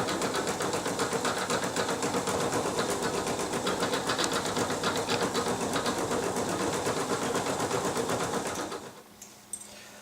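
A sewing machine stitches fleece onto fabric in a fast, steady mechanical chatter that runs continuously for several seconds, then stops abruptly, leaving a few faint clicks.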